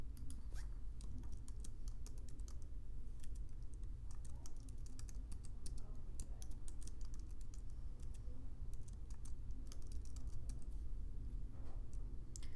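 Steady clicking of keys on a computer keyboard as a password is typed, continuous quick keystrokes at close range with a low background hum and no talking.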